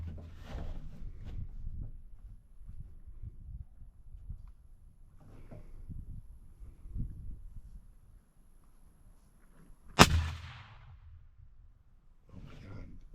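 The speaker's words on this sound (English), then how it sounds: "I'm gonna shoot it one more time just to make sure that nothing got bumped, nothing got moved." A single sharp rifle gunshot fires while sighting in a Vortex Crossfire scope outdoors, a loud isolated crack with a short decaying tail amid quiet background rustle.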